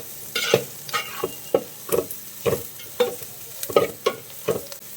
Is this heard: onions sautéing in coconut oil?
yes